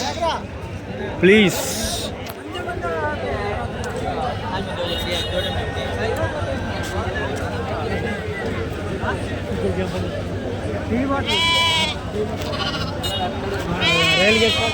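Sheep and lambs bleat loudly several times over a steady crowd murmur and chatter at the Kadiri Tuesday sheep market, with the sharpest calls near the start and toward the end.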